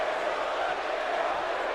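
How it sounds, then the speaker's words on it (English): Arena crowd in the WWE 2K wrestling video game, heard as a steady, dense roar of massed voices with no breaks, a constant chant-like wash throughout. "The crowd still chanting for Bray Wyatt though."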